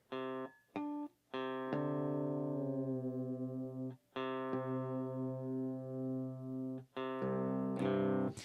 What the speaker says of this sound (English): let me get tuned for this song real quick